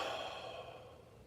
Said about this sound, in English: You can pump more in, force it out, and then take a half breath.